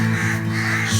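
A crow caws harshly and close by around an injured eagle, one loud, sustained call filling the short moment without any talking.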